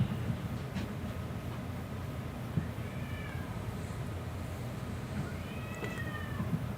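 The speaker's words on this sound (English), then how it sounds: "My cats are making all the noises up there." Pet cats meowing indoors, a couple of short rising mews spaced a few seconds apart, fairly faint over a constant low background hum.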